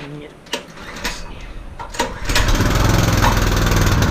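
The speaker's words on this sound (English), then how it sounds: "I'm going to start this up. I'm going to turn the fuel on, turn the choke on." A Harbor Freight 20-ton log splitter's 6.5HP engine is pull-started: short cranking rasps, then the small engine catches and runs at a loud, steady drone.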